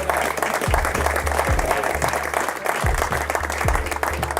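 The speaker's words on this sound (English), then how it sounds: "So a big round of applause for them." Applause at a footgolf tournament ceremony, a steady patter of clapping from a gathered crowd that continues throughout, with a low, regular thumping hum running underneath.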